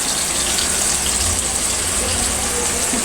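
First-press coconut milk pours into a pan for ginataang tilapia, a continuous close gushing splash of liquid lasting a few seconds.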